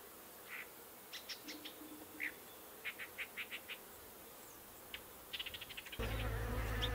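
A few honey bees buzz around a feeding sock on a horizontal hive, their short buzzes coming in separate bursts as they fly past, before a sudden louder rush of noise near the end.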